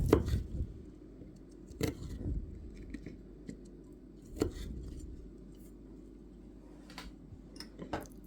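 Currant leaves, wood sorrel, hyssop and mint are chopped with a knife on a board, giving a few sharp, sparse knocks with quiet gaps between them, close and fairly soft.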